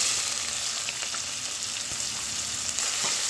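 Steady, close sizzling of chopped onions frying in a pan, with a few faint scrapes and pops throughout and no voices.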